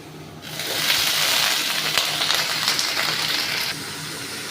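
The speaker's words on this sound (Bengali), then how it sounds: "ঝিঙেটা দিয়ে দিলাম ঝিঙেটা একটু ভেজে নিচ্ছি" Sliced ridge gourd sizzles steadily in hot oil with browned onion in a pan, a broad continuous frying hiss that swells after a quiet start and holds evenly before easing near the end.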